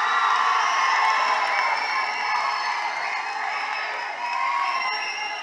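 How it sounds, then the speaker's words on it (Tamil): A large press-meet audience cheers and whoops continuously, with clapping mixed into the loud, steady crowd roar throughout. "ஒரு பெரிய கைத்தட்டலோட"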